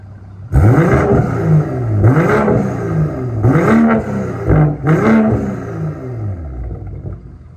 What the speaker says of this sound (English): we're gonna show you guys what the car sounds like now with this non-valve system